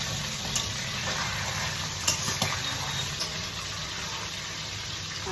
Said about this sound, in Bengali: ডাঁটা আলু আমার বয়েল করা হয়ে গেছে, আমি জল ছেঁকে ফেলবো।